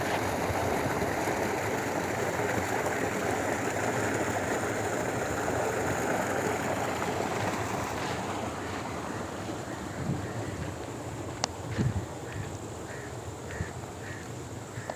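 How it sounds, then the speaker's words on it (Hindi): A village tubewell pump runs at dusk with water gushing out, a steady broadband rushing that dominates the first half and eases slightly later. A few faint clicks and a brief knock come near the end. "ये जी ट्यूबवेल चल रहा है, ये पानी आ रहा है अंदर से ट्यूबवेल के।"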